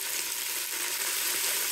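Curry leaves, green chillies and small onions fry in hot oil for a chicken pulao, with a constant bright crackling sizzle, fairly loud and even, and no voices.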